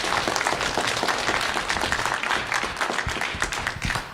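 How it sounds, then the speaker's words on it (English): School audience applauding the judges at a grade-level spelling bee, dense steady clapping from a crowd filling the room, close and continuous. "Round of applause for our judges."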